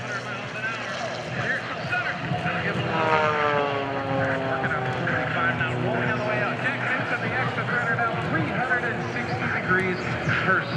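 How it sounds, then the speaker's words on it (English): An MXS aerobatic propeller plane flying at the Blue Angels homecoming airshow, its engine droning and shifting in pitch as it maneuvers at a moderate distance, with an announcer talking over it. "John Klatt in the MXS, nearly 440 degrees per second roll rate with the full stick deflection"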